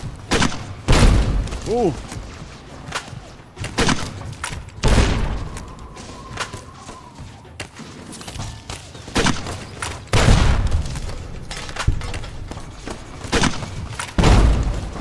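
Grenade rifle explosions in Fallout New Vegas, several heavy booming blasts spaced a few seconds apart amid gunfire and game effects, loud and close, with a brief voice exclamation.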